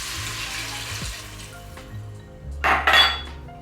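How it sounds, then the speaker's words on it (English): Water runs from a tap and splashes into a cooking pot for chili, a brief bright gush near the end with faint clinks of metal, up close in a quiet kitchen. "We're gonna add more water"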